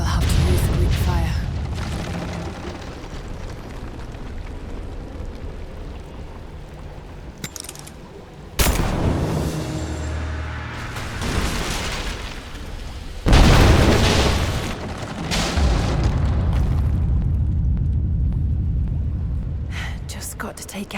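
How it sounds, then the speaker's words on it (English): Greek fire explosions in the video game Rise of the Tomb Raider, heavy booming bursts that flare up sharply around the middle of the stretch and again later, over a constant rumbling game backdrop with no talk. "Looks like I'll have to use the Greek fire."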